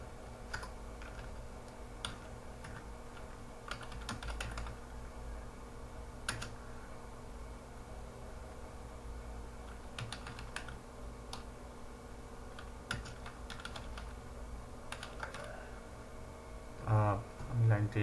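Computer keyboard keys tapping in scattered, uneven bursts of light clicks across the stretch, fairly quiet and close, with a person talking over the typing.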